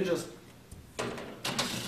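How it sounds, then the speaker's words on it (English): Photo booth doors being popped off during setup, giving a few sharp plastic clicks and thumps spaced apart, close and moderately loud, with some room noise between them. "these doors right here pop off, and that's definitely the easiest way to set this section up."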